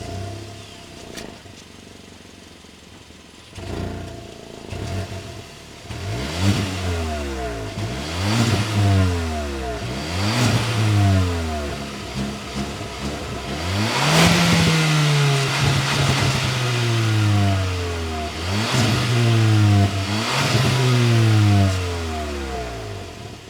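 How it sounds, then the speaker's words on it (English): A Hyundai Creta N Line engine cranks, catches and settles to idle, followed by a series of loud revs climbing and falling in a steady rhythm, heard close up with no talk. "Let's fire the engine up and see if there is any difference in the sound."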